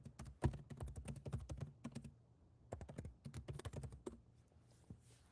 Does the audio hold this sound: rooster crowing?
no